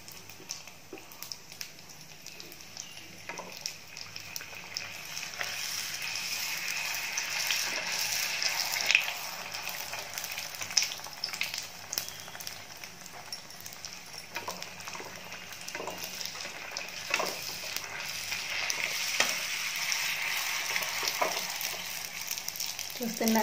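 Pani puri dough rounds frying one by one in hot oil for a Kadapa-style recipe, a steady broadband sizzle that swells and crackles as each puri goes in, continuous throughout with no talk.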